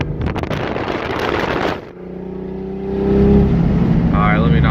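A Nissan VQ35DE engine with a misfire runs while driving, heard as a rough, loud engine drone with wind roar inside the car, briefly dropping before swelling again under it.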